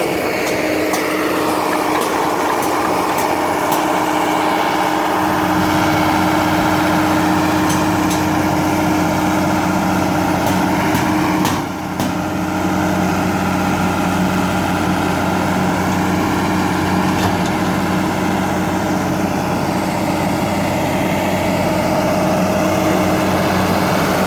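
A lorry engine idles at a construction site, a loud continuous steady drone that holds for the whole stretch with no speech.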